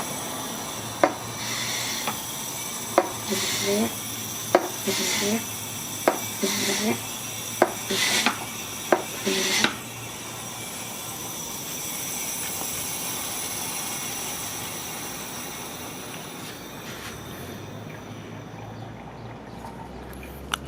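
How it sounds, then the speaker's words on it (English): Hand pump drawing engine oil out of an Audi C7 A6 3.0T, heard as a series of about eight regular squeaky strokes, close and fairly clear, then giving way to a steady low hiss and faint background hum. "You just take this, lift it, and start pumping, and the oil should come right out"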